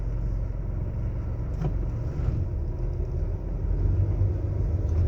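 A huge truck holds up a car on the road, its deep engine rumble droning steadily and swelling slightly toward the end, heard from inside the vehicle with no talk.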